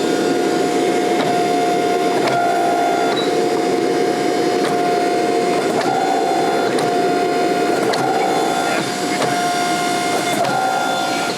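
Bandsaw cutting through a forge-welded spiral Damascus billet of steel, a steady loud mechanical whine and rasp with a constant motor hum and faint rhythmic pulses from the blade, running without pause and with no voices.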